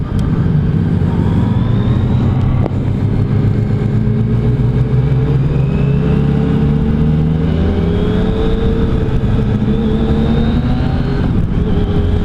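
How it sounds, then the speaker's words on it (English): Yamaha FJ-09 three-cylinder motorcycle engine runs steadily throughout, a continuous loud drone with a faint turbo-like whine riding above it, no talking. "I'm assuming this bike has a triple because it's got that almost like the turbo whine"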